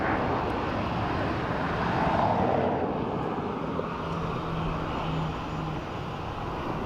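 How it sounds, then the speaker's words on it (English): Ryanair airliner coming in on a fast approach at Dublin Airport, a steady loud engine roar holding throughout with a faint low drone beneath, no voices. "Definitely a fast approach from Ryanair."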